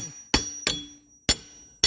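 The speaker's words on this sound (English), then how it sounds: "Tap it with the hammer" Three sharp metal-on-metal taps of a hammer on a pry bar under deck boards, ringing briefly with a faint resonant tone, spaced unevenly in otherwise quiet surroundings.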